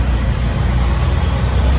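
An auto rickshaw engine idles with a steady, close, low rumble that runs throughout.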